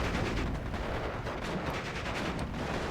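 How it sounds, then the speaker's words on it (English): M42 guns firing in the wargame Steel Division 2, a dense, continuous roar of overlapping gunfire and rumbling battle noise with no pauses. "first M42 firing. Second one as well."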